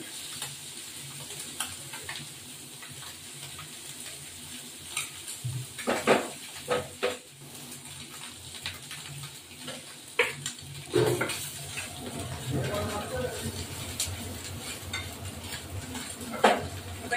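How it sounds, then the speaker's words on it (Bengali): Morola fish fry in oil in a pan with a constant low sizzle, while repeated clatters and scrapes of a spatula and pan come and go, growing busier toward the end. "এই যে মাছ ভাজা হয়ে গেল"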